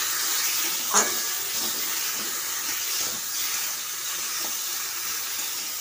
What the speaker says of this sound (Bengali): এরপর দিয়ে সামান্য হলুদ আর সামান্য পরিমাণে লবণ দিয়ে একটু ভালো করে ভেজে, তারপর দেখো একটুখানি নেড়ে নিচ্ছি।